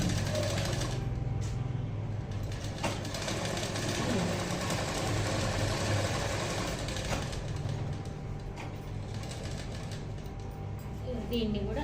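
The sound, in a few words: sewing machine stitching a blouse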